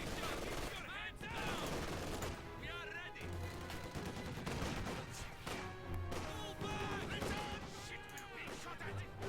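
MG42 and DShK machine guns fire in Company of Heroes 2, bursts of rapid gunfire mixed with battle noise and music, with a voice talking over the top.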